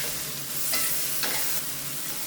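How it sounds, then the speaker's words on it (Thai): Chicken with cashew nuts stir-fried in a pan over high heat, with a steady close sizzle and occasional scraping and tossing of the ingredients, no talking. "เสร็จแล้วใช้ไฟแรงครับคลุกเข้าทุกอย่างให้เข้ากันดีครับ นี่ครับเร่งไฟแรงๆ นะครับ มันจะได้เคลือบติดกับชิ้นไก่ครับ"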